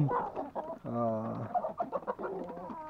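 A hen clucking close by in a series of short, uneven calls, with a voice mixed in.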